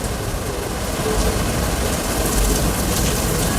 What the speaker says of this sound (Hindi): एक जगह ये है जो बहुत तेज़ बारिश आ रहा है।